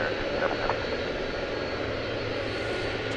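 A heavy jet airliner takes off at night from runway 18 left at Dallas/Fort Worth airport, its engines a steady, broad roar held throughout without a break.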